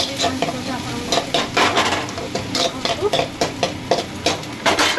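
Ground spice paste sizzling with onions in a hot pan while a spoon stirs it, with repeated scraping and clinks of utensil against metal over steady frying crackle.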